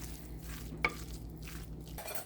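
A spoon stirs tuna and bean empanada filling in a pan, soft scraping and sizzle with a single sharp clink, close and quiet with no talking.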